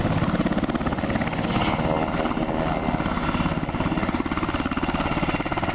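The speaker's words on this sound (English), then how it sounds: "The helicopter will come in, we will hook up 1 pallet of water" Loud, steady rhythmic thumping of helicopter rotor blades with a constant engine roar, close by and continuous throughout, as the helicopter hovers for a sling-load pickup of water pallets.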